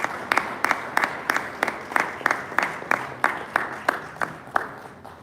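Rhythmic, evenly spaced clapping for two heads of state at a Czech-Ghana business delegation event, a steady series of moderately loud claps at a moderate distance.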